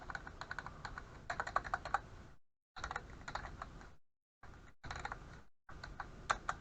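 Someone types on a computer keyboard in bursts of quick clicky keystrokes separated by brief silences, with individual Enter key presses standing out among the taps, close and alone.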